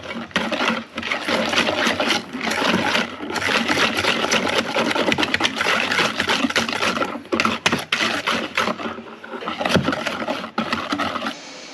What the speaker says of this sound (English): add in your eggs and whisk it really well